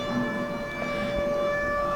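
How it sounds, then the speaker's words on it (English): An air raid siren sounds inside a Winston Churchill museum exhibit on the war years, a steady droning wail that fills the room continuously and at even loudness. "So that's kind of neat to have the air raid sirens going off."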